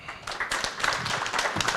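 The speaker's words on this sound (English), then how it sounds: "Please, a round of applause." An audience claps for a panel at a private sector dialogue forum, a brief burst of dense, close applause that continues throughout.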